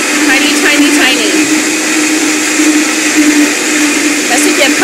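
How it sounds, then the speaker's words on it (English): A Vitamix blender runs loudly and continuously, blending fruit with tiny seeds into a thick, fibrous mix, a steady dense whir throughout. "A real blender could do a really good job, but the Vitamix tears it up."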